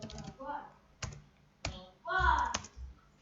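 Code is typed on a computer keyboard in short bursts, a few distinct clacks separated by pauses, with a voice speaking in between.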